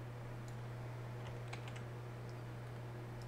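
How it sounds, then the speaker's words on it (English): Faint, sparse computer keyboard key clicks tap out a few characters over a steady low electrical hum, quiet and irregular with no talking. "here basically you can type in your username"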